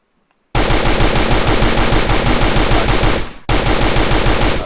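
Sustained rapid automatic gunfire, loud and close, rattling continuously with a brief dip near the end before resuming at full intensity.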